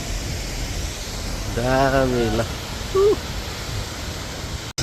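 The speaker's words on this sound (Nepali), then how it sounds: "हामी चाहिँ अहिले रुप्से झरना आइपुग्यो ल" Rupse waterfall in Nepal roars as a steady, broad wash of falling water close by, with someone speaking over it briefly and a short engine-like whine rising partway through.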